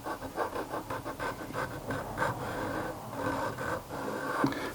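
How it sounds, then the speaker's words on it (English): A triangle file rasps over the edges of guitar fret slots to bevel them, a steady run of short scraping strokes, close and moderately loud, with no talking. "I'm just going to take this triangle file and I'm going to run over each of the slots just to kind of bevel that edge"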